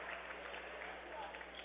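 Warm applause from a college basketball crowd as a substitute checks into the game, a steady, dense wash of clapping and crowd noise that runs evenly throughout.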